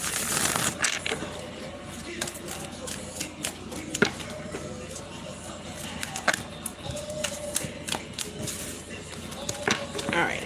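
Tarot card decks being shuffled by hand, producing a run of crisp, quick riffling clicks and soft slaps at close range, with talking in the background.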